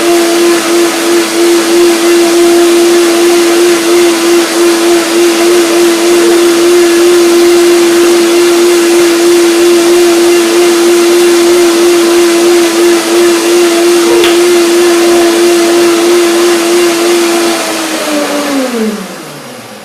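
A kitchen blender whirs loudly and steadily while blending a chili pepper dressing with sesame, holding one pitch for most of the run before winding down at the end, with no voices over it.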